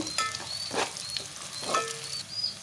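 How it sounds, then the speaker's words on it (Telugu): Beetroot pieces sizzle and crackle in hot oil in a pan while cooking bagara rice, a steady close frying hiss with a few brief stirring scrapes and sharp pops, and no talk over it. "కలర్ కోసం అయితే కొంచెం బీట్రూట్ని యాడ్ చేసుకొని ఒక్క వన్ టు టూ మినిట్స్ అయితే కలిపి పెట్టుకుంటున్నాను"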